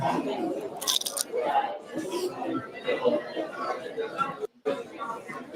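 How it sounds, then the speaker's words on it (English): Someone bites into crunchy bread in a messy sandwich, giving a few short crisp crunches and chewing sounds mixed in with close conversational talk. "did you hear the crunch of that bread?"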